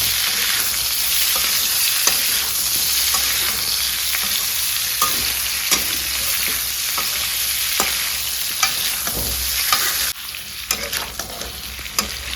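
Chopped onions and green chilies frying in a hot pan for pork curry, a loud continuous sizzle with scattered stirring scrapes throughout, briefly dropping in level near the end; no talking.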